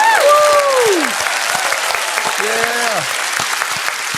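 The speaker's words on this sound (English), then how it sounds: "round of applause for Kevin." A live audience claps steadily after a band performance on a music show, the applause dense and sustained throughout while voices call out over it and a brief spoken word cuts in.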